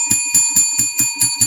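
A bright bell rung as a sound effect, struck seven times in quick even succession with a sustained ringing tone between hits, loud and close with no talking.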